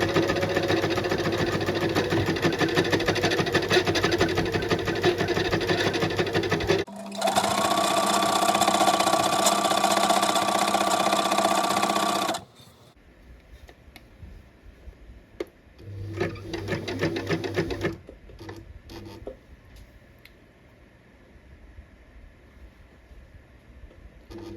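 Sewing machine stitching down through layers of a dress, loud rapid mechanical whirring in long runs, stopping, then shorter fainter bursts with quiet gaps between.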